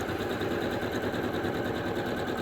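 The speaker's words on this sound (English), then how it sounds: "we're going to line up our corners and sew this" A sewing machine stitching quilt pieces together runs at a steady, continuous whir close by, even and unbroken from start to finish with no talking.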